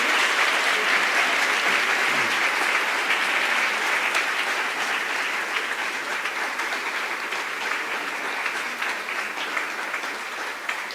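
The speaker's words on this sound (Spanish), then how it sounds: "Vamos a darle otro aplauso" A conference audience applauds the speaker with dense, sustained clapping. It stays loud and steady for about eleven seconds and fades slightly toward the end, with no voices above it.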